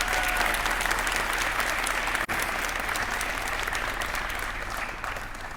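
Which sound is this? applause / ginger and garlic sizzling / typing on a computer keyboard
applause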